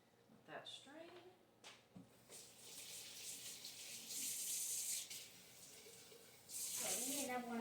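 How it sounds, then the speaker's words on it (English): Tap water runs into a sink over fresh blueberries being rinsed in a home kitchen, a moderate splashing hiss that rises and falls, with people talking over it at times. "I'll give these a rinse, let that strain."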